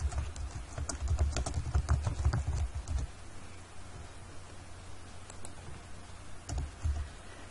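Typing on a computer keyboard while writing HTML in a code editor: close, quick key clicks in a busy flurry at first, then thinning to sparse, scattered taps.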